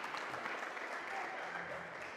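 Audience applause at a K-Link Jember product talk session, steady dense clapping filling the room at moderate level, with voices mixed in beneath it.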